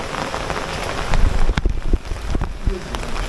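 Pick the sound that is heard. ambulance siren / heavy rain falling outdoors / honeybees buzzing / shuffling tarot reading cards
heavy rain falling outdoors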